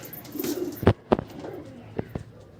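Madras and Giribaz pigeons coo close by in a few short, soft bursts with pauses between, while a person talks quietly in the background.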